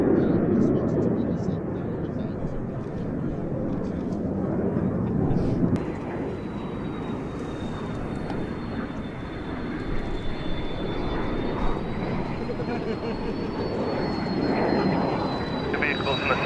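A Hellenic Air Force F-4 Phantom jet roars steadily at an airfield, a loud continuous engine rumble with a whining tone that rises slightly, while people talk over it.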